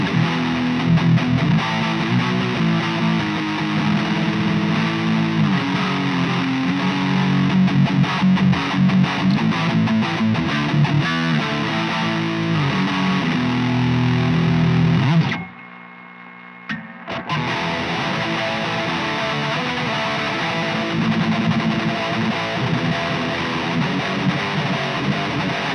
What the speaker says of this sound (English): why don't we flip it over to distorted and get those tones,